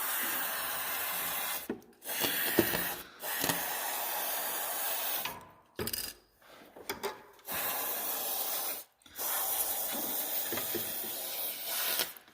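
Dry lubricant sprayed onto a silver chain, several steady hissing aerosol bursts of a few seconds each separated by short pauses, close and fairly loud with no talking.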